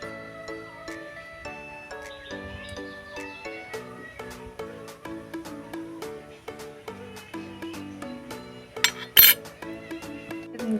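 A small spoon taps and clinks in a bowl while rice-flour dough for a sweet fish-shaped treat is shaped, giving quiet, irregular metallic ticks over soft sustained tones, with a sharper rattle near the end.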